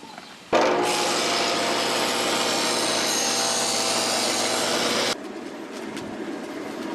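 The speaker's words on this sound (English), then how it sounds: "I need to grind this little sharp burr off from the cutting." A sharp burr is ground off a freshly cut blade edge, a loud, steady abrasive whine that starts abruptly, holds for about four and a half seconds, then cuts off into quieter background noise.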